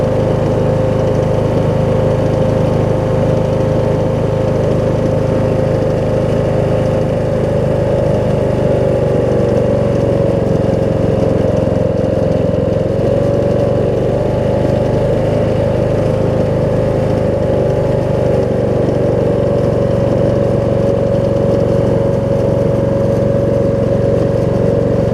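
A Kohler Courage engine on a Husqvarna YTH21K46 lawn tractor, loose and leaking oil, idles with a steady, loud, unbroken drone that runs throughout with no speech.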